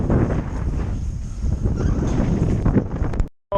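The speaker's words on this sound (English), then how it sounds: "Now the wind's blowing 20 and I'm doing 6." Strong, steady wind roars across the microphone aboard a sailboat beating upwind on the Intracoastal Waterway near Sebastian, Florida, with water rushing beneath it. The noise stays loud and continuous, then cuts out abruptly near the end.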